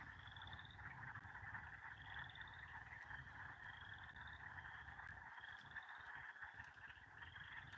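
A chorus of frogs croaks on a warm evening, a continuous dense chorus with repeated rising trill calls recurring every second or so over a low rumbling backdrop.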